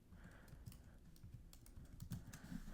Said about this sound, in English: So what I'll do here is I'll go ahead and type that in.